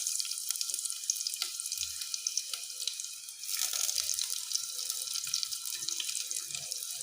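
Onions fry in a pan for a Kerala fish curry, producing a continuous bright hissing sizzle with faint soft knocks from the pan.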